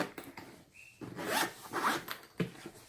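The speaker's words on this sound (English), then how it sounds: "That comes round here, zips up." A zipper on a carry case for a RAVPower 27000mAh power bank is drawn closed in several short, close, rasping pulls, quiet and alone.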